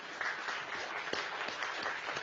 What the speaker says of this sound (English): please give a round of applause for all of our interpreters too